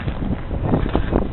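Sandstorm wind blusters steadily across open ground, buffeting a nearby microphone with a dull, rough rushing that rises and falls slightly.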